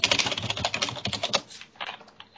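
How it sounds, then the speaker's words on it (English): Rapid, furious typing on a computer keyboard, a dense burst of close, crisp key clicks that thins into a few scattered taps toward the end, with no talking. "Someone's typing furiously."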